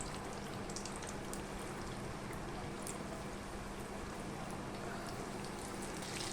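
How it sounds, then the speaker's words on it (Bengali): Banana-flower koftas coated in gram flour frying in hot oil, giving a dense, even crackling sizzle that holds steady and close throughout, with faint occasional pops and no voices. "তেল গরম হয়ে গিয়েছে, এবার একে একে আমি কোফতাগুলো দিয়ে দেব।"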